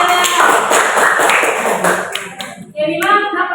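A school class claps hands together in a classroom, a dense, loud burst of rapid clapping that thins out into a few scattered taps and faint voices near the end.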